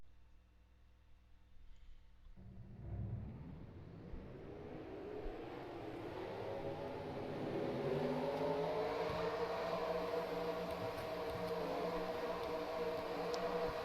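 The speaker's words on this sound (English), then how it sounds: "And now let's get the trucks rolling off." Racing trucks in a Canadian Tire series video game race roll off from the start, engines rising from a low idle into a loud, steady, building roar of many revving motors.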